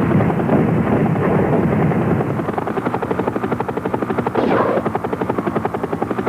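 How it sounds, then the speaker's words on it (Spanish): Helicopter rotor in a retro video game, a loud continuous chopping drone with rapid rhythmic pulsing that runs steadily throughout, with no speech. "En esta ocasión cuentas con un fantástico y poderoso helicóptero y puedes volar a diferentes lugares del mundo"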